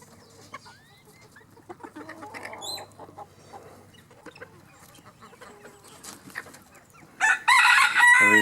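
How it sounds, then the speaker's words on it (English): A handsome rooster lets out a loud, close crow near the end, after a stretch of soft clucks and scratching from a backyard chicken flock. "I really like this rooster."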